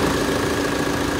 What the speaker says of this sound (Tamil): இது வந்து 2 லிட்டர் இன்ஜின்.